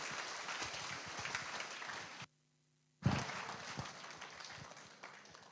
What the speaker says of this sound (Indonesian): sambut dengan gemuruh tepuk tangan yang meriah